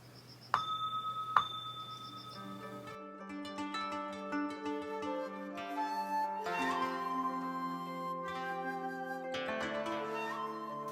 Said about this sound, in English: so that's the bell and you ring it